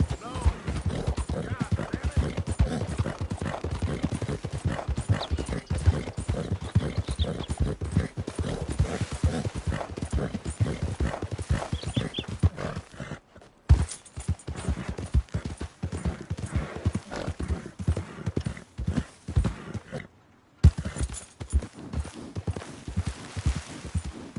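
Hooves clip-clop in a steady, continuous rhythm close by, with brief interruptions, while people talk and shout over them.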